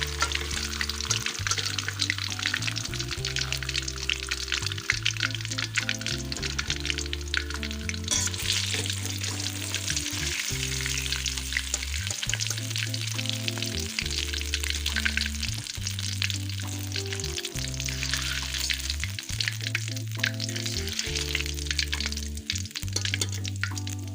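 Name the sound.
fish frying in oil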